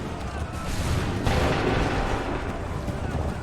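Cannon volley in Assassin's Creed III, a dense, loud rumbling blast of massed artillery fire with a sharp surge partway through, sustained over a noisy battlefield bed.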